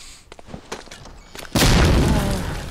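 A grenade blows up in the game Medal of Honor: Allied Assault on the Southern France map. A heavy, loud boom with a long rumbling tail follows a few lighter clicks and pops from the firefight.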